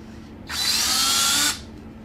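A power drill boring into a pumpkin whirs steadily for about a second, a high buzzing whine that starts and stops abruptly over a low background hum.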